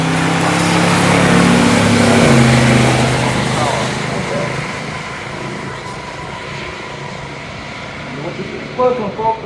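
A 1977 Pontiac Trans Am Bandit Edition and a supercharged 1957 Ford 312 at a pure stock drag race, engines droning and fading into the distance while a voice talks over them.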